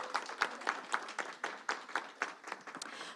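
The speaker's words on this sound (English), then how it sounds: "I want us just to give another round of applause to these three leaders." Applause rises from the audience at a school board of education meeting, a steady patter of many hands clapping in a large room, moderately distant and fairly quiet throughout.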